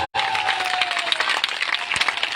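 A crowd claps at a political rally in Hamirpur, India, with sustained dense applause filling the space after a brief gap at the start, a faint whistle-like tone running under the first second.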